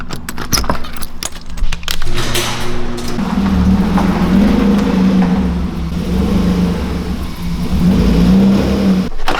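A car engine idles and revs steadily nearby, a throaty mid-pitched drone with gentle swells, preceded by some jangling and clicking at the start.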